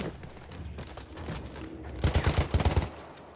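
Gunfire in the video game Battlefield 1, a rapid burst of automatic shots up close following scattered earlier noise, loud and rhythmic toward the end.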